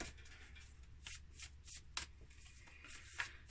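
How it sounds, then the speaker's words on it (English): A tarot deck is shuffled by hand on a table in a quiet room, giving soft riffling and sliding card noises with a few sharper taps as the cards knock together. "So I'm gonna shuffle, keep shuffling and see if it comes out again."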